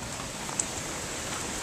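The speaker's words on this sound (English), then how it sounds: "Yeah, it's still raining." Steady rain falls outdoors on a dark evening, a continuous even hiss of drops on surfaces with one faint tap standing out, heard alone without voices.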